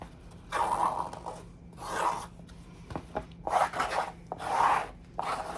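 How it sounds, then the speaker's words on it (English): A spatula spreads glue across an old book cover in several slow, rhythmic rubbing strokes, each a soft scraping swish, close and quiet with no talk. "Grab my spatula so that I can just make sure the glue's nice and spread around."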